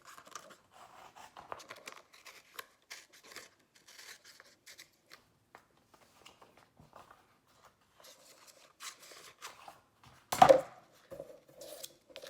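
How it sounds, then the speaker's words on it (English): Scissors cut through a paper sewing pattern for a bra neckline alteration, giving a string of quiet, close snips and rustles with a louder crunch of paper near the end. "And from there, you're just going to cut off this extra paper."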